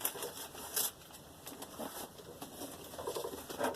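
Tape being pulled and wrapped around a plastic bottle, with crinkly patters and short tearing rustles close by, no voices.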